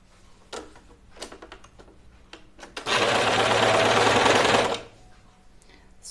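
A sewing machine stitches fabric in one burst of about two seconds, a fast close whirring rattle, framed by quieter ticks and handling clicks before and after.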